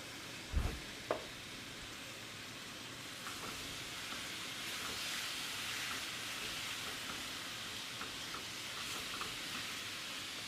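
Oil sizzling steadily in a drying pan as jambalaya ingredients brown, a constant hissing fry throughout with a couple of sharp knocks near the start, no talking.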